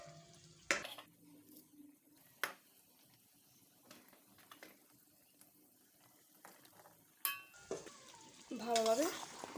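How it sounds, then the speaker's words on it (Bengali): Spoon stirring and scraping through chicken curry in a pot on a medium gas flame, soft intermittent clinks and wet mixing sounds with a faint sizzle, a few sharper knocks and splashes near the end. "ভালোভাবে মিক্স করে নেব সবগুলো।"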